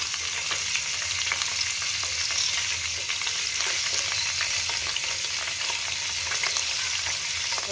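Chopped tomato frying in oil for tori salan, a ridge gourd curry, gives a steady, close sizzle with light stirring scrapes throughout, and no one speaks.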